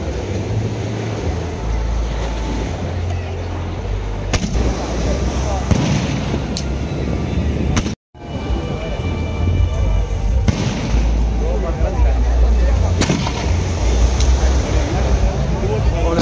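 Fireworks go off at the closing of the Vettukad church festival in Trivandrum, a dense continuous crackle and rumble of bursts with sharper loud cracks at intervals. A short gap falls midway, and crowd voices mix in throughout.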